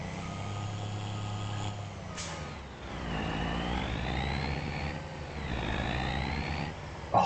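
A truck engine idles with a low steady rumble, broken by a short sharp air-brake hiss, while rising and falling tonal whines sweep through the background.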